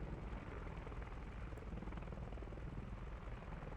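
Steady, continuous helicopter rotor drone from the video game Squad, a constant mid-distance engine and blade wash with no pauses or other sounds over it.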